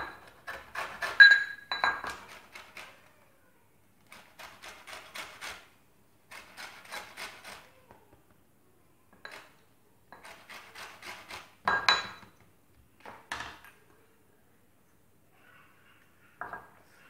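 Lemon peel is grated into zest for an apple cake, quiet rasping strokes in short bursts with pauses between, close by and faint, with no talk.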